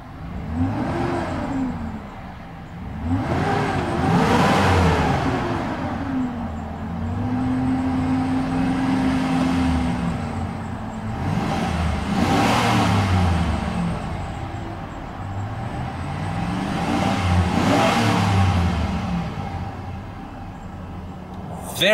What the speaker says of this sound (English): Very nice sounding engine.